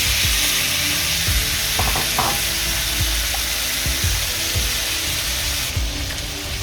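Tomatoes frying in hot oil with turmeric for momo chutney make a loud, steady sizzle and crackle, with a few soft stirring scrapes and knocks from a utensil in the pan.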